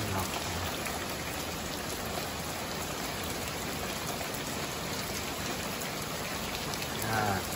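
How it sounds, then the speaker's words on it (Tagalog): Heavy rain falls outdoors in the United States, a dense, loud, unbroken hiss of drops pattering on surfaces that holds steady throughout with nothing else standing out. "Lakas ng ulan."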